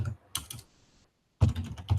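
Quick bursts of clacking keystrokes on a computer keyboard while writing LaTeX text, close and crisp in a quiet room, with a short silent pause between the two flurries.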